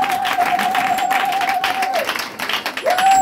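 A church congregation applauds steadily at a French-language worship service, a dense, loud wash of clapping with a sustained keyboard note held underneath that briefly drops out and returns.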